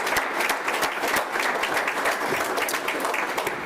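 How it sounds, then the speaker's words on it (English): Audience applause at a college football press event, a dense steady wash of many hands clapping throughout, loud and close with no break. "I think that one deserves a round of applause"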